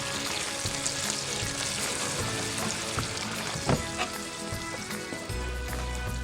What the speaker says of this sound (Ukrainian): Додаємо галушки до пательні і доводимо до готовності.